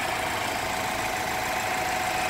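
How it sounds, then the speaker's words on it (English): A BMW X3 engine running with a steady, dense mechanical hum and hiss, close and constant in level, with no clear rise or fall in pitch. "Get a little noise from that little engine"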